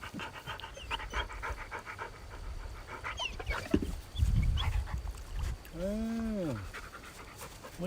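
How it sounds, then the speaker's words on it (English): A dog pants heavily and excitedly near the microphone at a rainy fishing spot, with a brief whimper near the end over steady rain and background noise. "I apologize for the dog."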